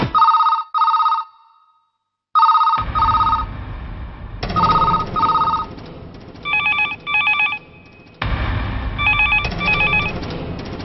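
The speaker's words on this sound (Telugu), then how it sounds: "ఏ పోలీస్ స్టేషన్లోనూ ఫోన్లు ఎత్తడం లేదా?" A telephone rings unanswered in a police station: repeated double rings, loud and close, with a second phone's ringing joining later over a background murmur.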